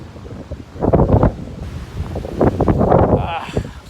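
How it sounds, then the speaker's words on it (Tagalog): Strong wind gusts through pine trees along the Solsona-Apayao road, roaring loudly against the microphone in surging waves, with a person talking beneath it. "napakalakas ng hangin"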